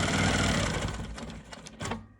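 Sewing machine quilting an economy block, a fast rhythmic stitching whir up close that runs steadily, then slows and stutters into short bursts as it pauses for repositioning.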